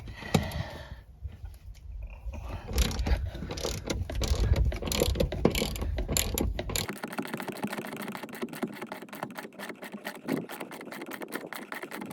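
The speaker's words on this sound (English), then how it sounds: "two bolts on the back. So let me get those out of there" A ratchet works loose the rear seat bolts in a 2006 Chevrolet Silverado pickup, giving a rapid, steady clicking that runs close and fairly loud through the whole stretch, with the tone shifting partway through.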